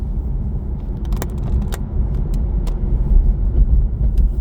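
Cars driving along Horseshoe Pass, a snowy mountain road in Wales in winter, give a steady low rumble of tyres and engines that swells slightly as they pass, with a few faint clicks over the top.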